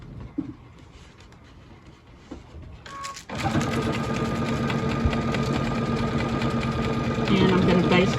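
A sewing machine runs steadily for several seconds, basting stitches through clear vinyl with rapid mechanical chatter that grows slightly louder near the end, after a quiet stretch of faint handling.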